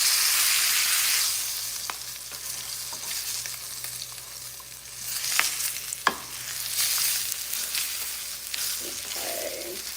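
Panko-crusted rack of lamb with eight ribs sears in a hot pan for a brown crust, giving a steady loud sizzle with a few sharp clicks and scrapes, no voices.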